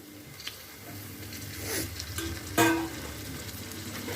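Finely chopped tomato pieces sizzling as they fry in a pan, a soft steady hiss with a few stirring scrapes and clinks.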